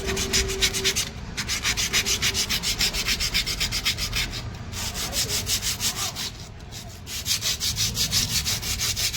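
Sandpaper rubbing hard on a brake part of a Skoda Karoq with a 1.5-litre petrol engine during a service, a steady rapid back-and-forth scraping that continues throughout, close and loud with no talking.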